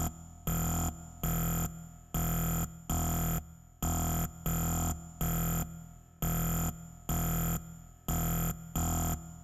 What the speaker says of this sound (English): I quite like this plate verb. It sounds almost like a reverberator, like a resonator.